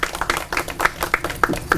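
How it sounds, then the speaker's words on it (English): A small group claps steadily and unevenly, with individual hand claps standing out in a brief burst of applause. "Please give him a big round of applause."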